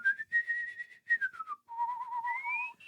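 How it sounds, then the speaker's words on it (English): A person whistles a wavering melody with noticeable vibrato, a few held and gliding notes in short phrases with brief gaps, close and clear with no talking. "Yeah, that was me whistling."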